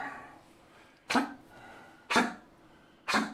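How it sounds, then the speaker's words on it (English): A dog gives three harsh, hacking coughs about a second apart, close by in a quiet room. "You got the horks, the doggy horks."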